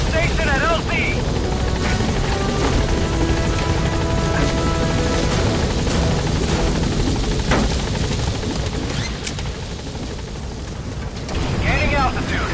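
Support helicopter arriving at a landing zone in Metal Gear Solid 5, a loud continuous rotor drone with a radio voice talking over it, dipping briefly near the end before swelling again.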